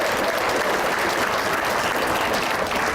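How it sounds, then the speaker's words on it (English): More than 200 people in a room in Edmonton applaud together, a thick, even roar of clapping that stays loud and constant throughout, with no voices over it. "so give yourself a round of applause."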